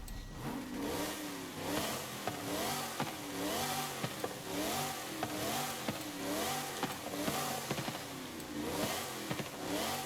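A supercharged classic Shelby GT500 engine revs repeatedly in rising and falling surges, steady and close, with a synthetic video-game quality from Forza Horizon 5 and no talking.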